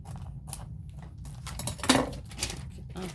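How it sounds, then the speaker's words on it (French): Plastic pieces being cut at a bevel for a fully laminated box, a handful of light clicks and snips close by, with one sharper crisp cut near the middle and short faint scrapes around it. "On prend ces morceaux et on va venir les couper en biseau."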